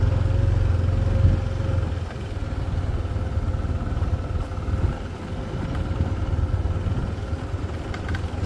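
A Yamaha NMAX scooter engine runs steadily close by on a mountain ride at night, giving a continuous low rumbling hum with faint clatter and no talk.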